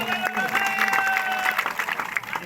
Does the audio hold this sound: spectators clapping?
yes